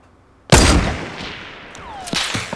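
Submachine gun fire in Fortnite Battle Royale: a loud, close blast bursts out after a moment of quiet, its echo slowly fading, followed by a couple of quick, fainter shots near the end.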